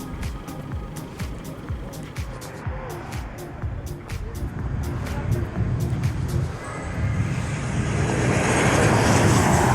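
Delta Airlines airplane at Queen Beatrix International Airport, its engine roar building from a moderate rumble to a louder, broad wash of noise over several seconds, with sharp clicking and wind noise layered on top.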